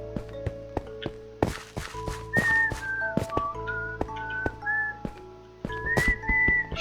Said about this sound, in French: On va arrêter de siffler.